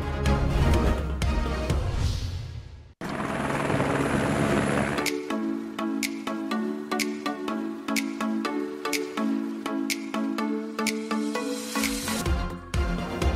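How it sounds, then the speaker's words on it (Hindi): A helicopter flies over Dubai, its steady rotor and engine roar loud and continuous, with a brief dropout and a shift in tone partway through. "हेलीकॉप्टर से दुबई का खूबसूरत नजारा।"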